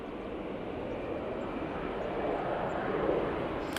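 An EasyJet airliner powers up for takeoff at Manchester Airport, a steady broad engine roar heard from a distance that swells slightly toward the end, with no voices.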